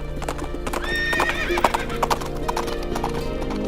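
A horse gallops with rapid rhythmic clip-clop hoofbeats and lets out a loud, wavering neigh partway through, close and prominent with no speech.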